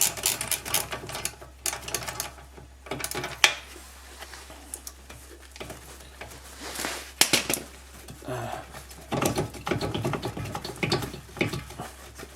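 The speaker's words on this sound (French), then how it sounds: "il faudra une clé BTR de 5. Ce sera pour défaire la vis du disque." A hex key turns the brake disc retaining screw on the front hub of a 2006 Mercedes C200 CDI, giving close, intermittent metallic clicks, taps and scrapes in uneven bursts.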